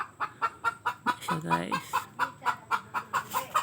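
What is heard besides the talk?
chickens clucking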